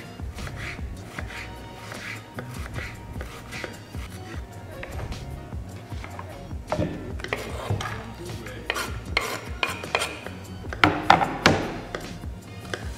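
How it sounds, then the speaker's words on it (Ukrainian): A knife works steadily through two onions on a cutting board, giving a run of close, uneven chopping thunks and taps that grow denser and louder toward the end, with faint voices in the background. "Дрібно ріжемо дві цибулинки."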